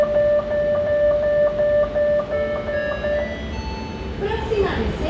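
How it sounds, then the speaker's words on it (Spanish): Lima Metro Line 1 trains at Pumacahua station sound a steady electronic tone, and the pitch slides as they pull in, ending in a rising rush of rail noise, with voices talking throughout. "Allá vienen todos los trenes."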